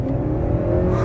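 A 2022 Honda CR-V e:HEV hybrid accelerating, heard from inside the cabin as a loud, steady low engine and motor drone with a rising whir through the short burst.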